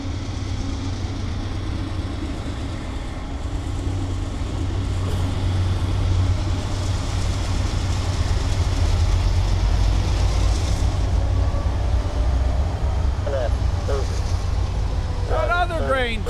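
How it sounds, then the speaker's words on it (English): A grain train rumbles low and continuous through the Norfolk Southern DeButts rail yard, growing louder midway, with radio-like voices and chirps toward the end. "Another grain train for the night."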